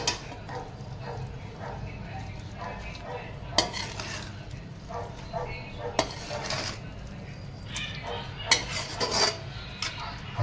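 A spoon stirs carrots cooking in milk in a metal pot, giving a soft continuous scraping with a few louder clanks against the pot, near and moderately loud, with a voice speaking at times.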